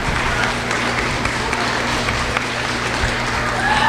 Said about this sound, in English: Let's give these three young ladies a big round of applause.